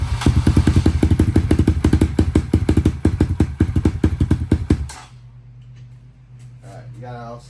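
A Kawasaki KLX140 with a 170cc big bore kit and a 26mm Mikuni carburetor fires up on choke. It runs in a loud, close, rapid thumping stutter for about five seconds, then cuts out, leaving quiet room noise and a brief voice.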